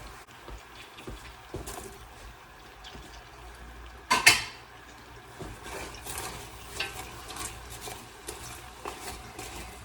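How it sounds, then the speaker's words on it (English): Sliced onions are stirred in a soup pot over medium-low heat, with soft scraping and a quiet sizzle throughout and one sharp utensil clank against the pot partway through. "And I'm gonna stir it and keep an eye on it"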